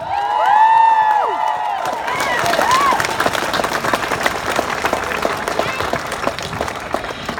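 Crowd at a school strike climate rally in Launceston cheering and applauding, opening with loud whoops and shouts over clapping, then settling into steady, dense applause.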